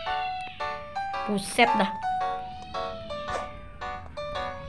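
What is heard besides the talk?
cats fighting, from the video game Warnet Life 2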